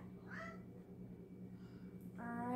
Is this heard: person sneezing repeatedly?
no